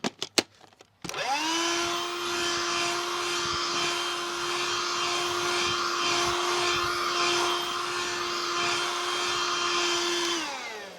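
A Hoover Jovis+ handheld vacuum cleaner with a crevice tool fitted switches on after a few handling clicks, then holds a steady high-pitched whine for about ten seconds before powering down.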